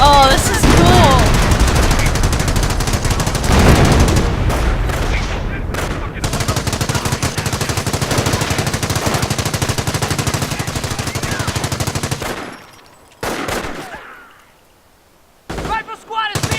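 Rifle and machine-gun fire in the Company of Heroes Normandy invasion battle, dense and continuous for about twelve seconds, then thinning into a few isolated bursts with a voice speaking over parts of it.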